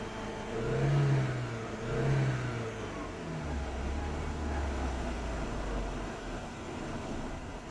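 A Capri XR2 project car's engine idles with a low steady rumble, rising in two brief revs early on before settling back to an even idle, with no voices present.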